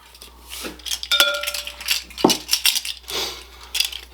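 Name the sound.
rummaging through spoons to find the right one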